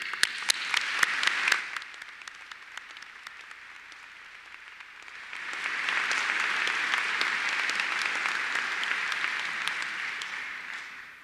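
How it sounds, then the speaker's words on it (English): Audience at a university winter commencement ceremony applauds, starting with scattered sharp claps, dipping briefly, then swelling into a sustained, fuller round of clapping that holds steady to the end. "I think we should have a tremendous round of applause for Dick Telfer for a job well done."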